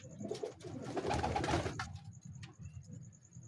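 Old big-breed pigeons cooing softly nearby in a low, rolling murmur, with a few faint high chirps.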